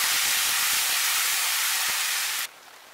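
A ginger-cumin paste with turmeric fries in hot oil for a Bengali banana flower curry. It gives a loud, steady sizzling hiss close by that drops abruptly to a much quieter level near the end.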